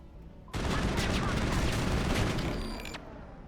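Enemy guns open up in the shooter game Mass Effect on Xbox 360, a sudden loud burst of sustained rapid gunfire that hammers on for about two and a half seconds before easing off.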